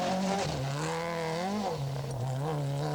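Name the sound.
Toyota Celica rally car driving over an obstacle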